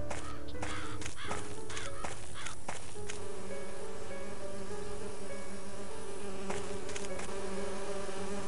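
Bees buzz in a continuous, dense drone throughout a scene from the video game And Then There Were None, with a few sharp clicks and thumps early on and again near the end.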